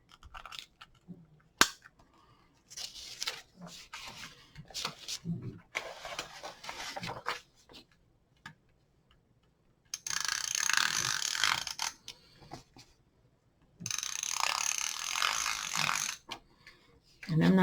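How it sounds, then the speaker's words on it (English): A double-sided tape runner is pulled across a journal page in short bursts of clicking, ratcheting and sticky tearing noise, with a few longer hissing sweeps. The tape runner is close and fairly quiet. "I'm going to use double-sided tape, or my tape runner here."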